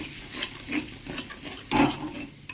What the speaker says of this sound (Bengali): এবার দেবো লঙ্কা কুচিটা, ফেটিয়ে দিয়ে দেবো